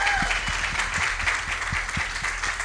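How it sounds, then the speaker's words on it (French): A church congregation briefly applauds first-time visitors during a Sunday morning service, giving a short burst of moderate clapping over a low rhythmic thump from the background. "Est-ce qu'on peut les applaudir, s'il vous plaît?"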